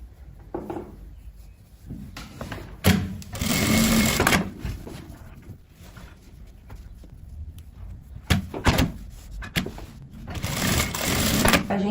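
A sewing machine stitches the crotch seam of knit sweatpants in bursts of varying length, with pauses and fabric handling between runs, close and moderately loud.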